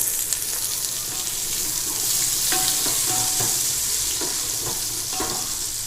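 About 400 grams of sliced large onions frying for chicken biryani crackle with a dense, continuous sizzle, close and loud, punctuated by several light stirring scrapes against the pan.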